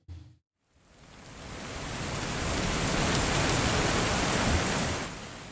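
Steady rain hisses as a broadband wash, swelling gradually after a short silence, holding level and then easing slightly at the end, with no voices over it.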